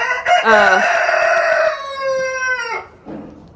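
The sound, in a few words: rooster crowing near a barn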